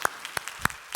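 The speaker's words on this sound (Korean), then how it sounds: "영상으로 함께 하시는 분들도 들리도록 크게 한번 박수로 환영하겠습니다" Congregation clapping in welcome for newcomers at a Christmas church service; short, sparse bursts of claps, four distinct spikes in about a second, moderately close and without talk.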